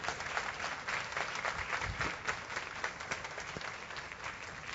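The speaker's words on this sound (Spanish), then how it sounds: "si lo va a aplaudir, apláudalo de verdad" A church congregation applauds during a sermon, a dense, even wash of many hands clapping at moderate distance that holds steady throughout, with no speech on top.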